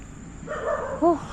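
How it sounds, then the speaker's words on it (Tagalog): A dog barks a few times close by at night in a Filipino neighborhood, short yipping bow-wows rising near the end, with a voice talking faintly underneath. "Tapos siyempre yung aso nila tahol ng tahol"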